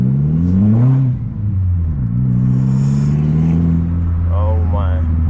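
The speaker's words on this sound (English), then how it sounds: "Oh my god, the way you can hear the turbo through the back of that." A Mk4 Golf GTI turbo engine idling and revving through a newly fitted exhaust, a steady deep drone with rising and falling engine tones and turbo whine, while people talk over it.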